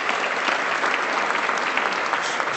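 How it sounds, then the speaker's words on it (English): A room full of people claps steadily for a parliamentary assistant at a business gathering, a dense, even wash of applause that holds at one level from start to finish with no voices standing out. "Please give her a round of applause."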